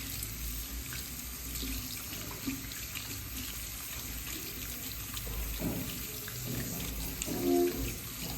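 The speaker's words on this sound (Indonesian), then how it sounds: "Kita cuci tangan dengan metode 6 langkah menurut WHO." Hands being washed under a running tap at a sink, a steady close stream of water splashing with small shifts as the hands move, no talking.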